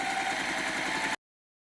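A sewing machine stitches half-square triangle pieces for a Night Sky quilt. Its motor gives a steady, quiet hum with fast regular needle pulses for just over a second, then cuts off suddenly.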